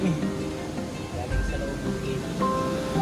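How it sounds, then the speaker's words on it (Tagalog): Strong water current flowing out of a cave at Ganap Cave in Borongan City, a steady rushing wash of water close by, with people talking over it. "Grabe lakas ng agos, oh."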